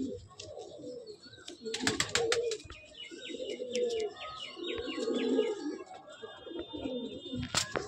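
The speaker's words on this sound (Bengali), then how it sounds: "অনেক পুরনো পায়রা, অনেক বয়স্ক পায়রা" Madrasi pigeons coo in soft, low repeated phrases, several rounds in a row, with bright chirps from other birds and a few clicks nearby, in a pigeon loft.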